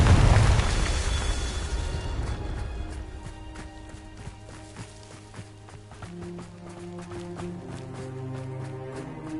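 A Confringo spell explodes in Hogwarts Legacy on PS5 with a loud, dense burst that fades over a couple of seconds, followed by lighter rhythmic thumps and tonal game sounds.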